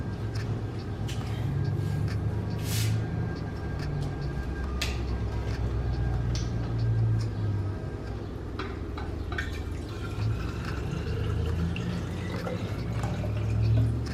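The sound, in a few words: filling a milk-carton water bottle with water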